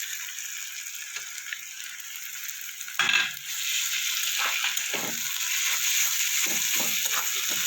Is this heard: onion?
yes